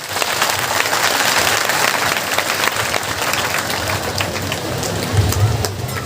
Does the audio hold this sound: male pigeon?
no